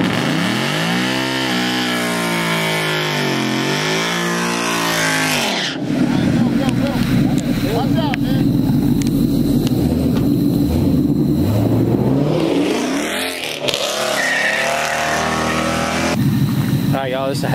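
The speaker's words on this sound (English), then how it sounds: "this is a heads-up race," A Mustang and a Nissan GTR launching side by side in a heads-up drag race: loud engines rev up and then roar at full throttle for several seconds before easing off, with speech heard at times through the noise.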